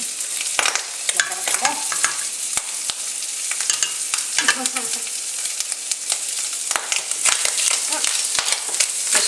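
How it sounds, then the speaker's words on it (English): Bacon sizzles and spits loudly in a frying pan, a dense crackling hiss dotted with sharp pops and scraping stirs, while someone speaks briefly over it. "Just be aware that your bacon will spit at you like that while you're cooking."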